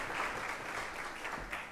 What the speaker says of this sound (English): Can I request that we give them a round of applause?